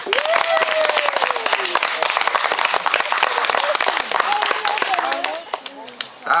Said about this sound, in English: clap now if you like them